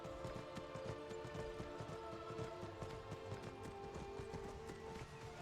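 Horse hooves clip-clopping in a steady, close trotting rhythm over a game's ambient background in Skyrim, continuing evenly without voices.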